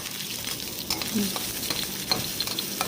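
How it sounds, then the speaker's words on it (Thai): Close, crackling sizzle of garlic frying in hot oil in a wok, with a spatula stirring and scraping the pan now and then. "เอากระทะตั้งไฟใส่น้ำมันลงไปนิดหน่อยนะคะเพื่อน ๆพอน้ำมันร้อนได้ที่เราก็ใส่กระเทียมลงไปค่ะ"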